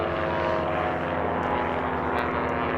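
Christen Eagle two-seater biplanes racing in Biplane Heat 3B at the 2018 STIHL National Championship Air Races, their propeller engines droning loud and steady throughout with a pulsing low rumble and no voices.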